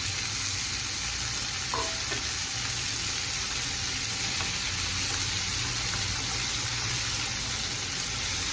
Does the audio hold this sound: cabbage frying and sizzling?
yes